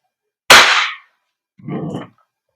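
A WE Glock 34 Force Series T2 airsoft gas blowback pistol fires once with a sharp, loud crack, followed a second later by a shorter, duller mechanical clack, with silence around both.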